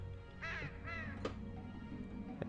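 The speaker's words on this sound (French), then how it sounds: "à chaque fois que le corbeau ici croasse, il y a le son" A crow in the Dofus video game gives two harsh, drawn-out caws in quick succession over a low ambient hum, followed by faint clicks.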